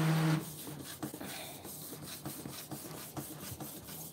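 An edible ink printer prints onto a cake with a soft, repetitive mechanical rubbing and scraping. The print head makes rhythmic passes with brief clicks, fairly quiet and steady, with no speech.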